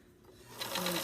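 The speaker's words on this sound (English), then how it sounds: "when we start to sew, we're going to back tack to make it nice and firm" A sewing machine back tacks along a drawstring bag seam, starting quiet and then running in a brisk, close mechanical whir with rapid stitching rattle, without talk.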